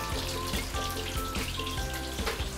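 Butterfly-cut siakap fish deep frying in hot oil gives a steady, dense crackle and bubbling sizzle throughout, with faint tonal sounds in the background and no speech.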